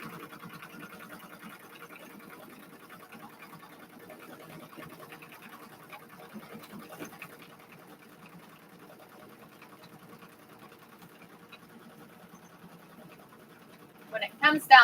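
An embroidery machine stitching fabric held in a hoop, a steady fast needle rattle running under a voice, with louder mechanical clatter near the end.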